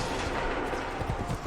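Musket volley in the Assassin's Creed 3 video game: a dense, continuous crackle of massed gunfire fills the moment loudly, with no talk over it.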